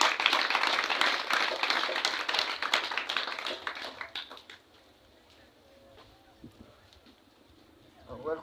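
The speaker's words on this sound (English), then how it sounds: "A round of applause for him, please." Audience applause at an office inauguration for a mental disability association at a health post in Abuko, with dense clapping for about four seconds before fading to quiet room noise and faint sounds.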